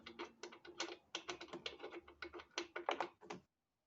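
A ratchet wrench clicks rapidly while removing the spark plug from an Echo PB2520 leaf blower, a close, crisp run of ratcheting ticks in quick bursts lasting about three seconds before stopping.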